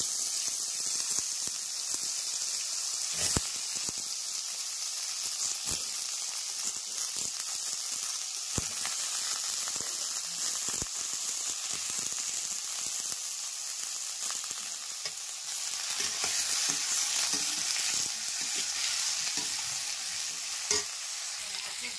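Potatoes frying in a pan give a constant, close hiss and sizzle, with occasional sharp clicks of a utensil stirring them, and no voices.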